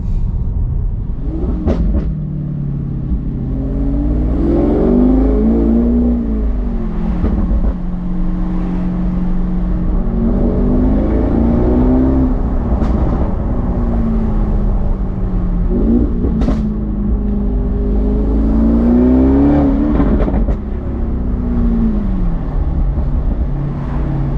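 A 750bhp Audi RS6 ABT with an Akrapovic exhaust rumbles loudly close by, its exhaust rising and falling in repeated revs over a deep, continuous drone.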